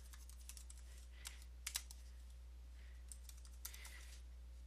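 Code being typed on a computer keyboard, scattered soft key clicks in irregular short bursts over a low steady hum, quiet and close.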